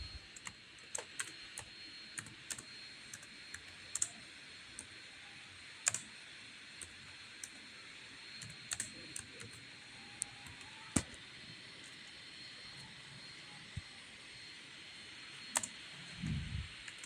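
Quiet keyboard typing while entering code, with irregular clicks and taps scattered across the clip over a steady low hum, soft and close.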